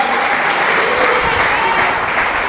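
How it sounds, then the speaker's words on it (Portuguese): Church congregation giving a strong round of applause during a service, a dense sustained clapping from many people that holds steady and loud across the whole stretch. "dê um forte aplauso ao Senhor"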